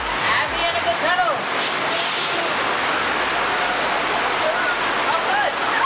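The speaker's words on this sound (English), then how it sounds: "Oh no, I hear water!" Loud, continuous rushing water roars through a ride tunnel at Universal Studios Hollywood, a broad steady wash like a waterfall, with a voice speaking briefly over it near the start.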